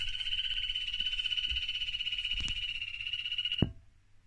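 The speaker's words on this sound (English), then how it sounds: "are these yellow dart frogs that have been calling" Yellow dart frogs give a loud, continuous high-pitched call, a sustained buzzing trill, for several seconds close by, then stop abruptly after a sharp knock.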